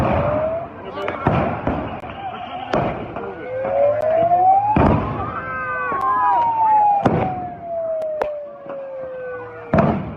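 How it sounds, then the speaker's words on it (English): Police flashbangs going off at a street protest on Capitol Hill, a series of sharp loud bangs at irregular intervals over a wailing siren, with people talking and shouting throughout. "you don't realize how many flashbangs were deployed, and just hearing it and not seeing it"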